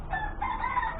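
An old laying hen or rooster crows nearby in a single drawn-out call that fills the whole moment, with faint farmyard background underneath and no voices.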